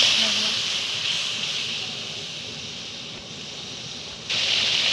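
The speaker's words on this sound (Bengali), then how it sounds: "মশলাটায় সামান্য পরিমাণ জল অ্যাড করে দিচ্ছি দিয়ে নাড়িয়ে নিচ্ছি" Water poured into masala with onions fried until reddish brown in a pan for a potato, pointed gourd and soybean curry, giving a steady loud hiss and sizzle throughout with a brief dip near the end.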